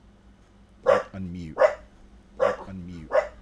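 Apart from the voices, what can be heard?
dog barking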